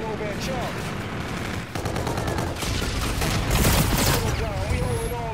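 Rapid automatic gunfire in a Call of Duty Infinite Warfare hardcore domination match rattles in dense overlapping bursts, loud and continuous throughout, with voices under the shooting.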